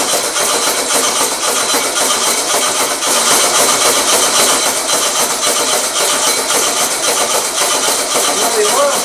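An engine with an electric choke cranks, catches and settles into a steady, loud idle in a workshop, the running note holding even throughout, with a voice briefly audible over it.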